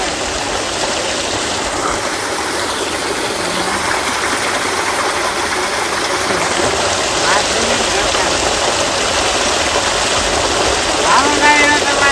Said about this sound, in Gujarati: ડાયરેક્ટ કુવાની મોટરનું પાણી